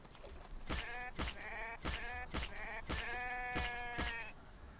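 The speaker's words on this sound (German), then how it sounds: "Da ist ein Schaf." A sheep in a survival video game bleats repeatedly in a rapid, wavering series of calls, fairly quiet and close, with no talking over it.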